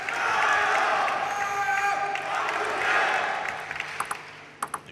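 Arena crowd at an ITTF World Team Championships 2022 table tennis match roars in sustained cheering for Wang Chuqin, a broad steady swell that fades near the end as a few sharp ball or clap hits cut through; a commentator talks over it.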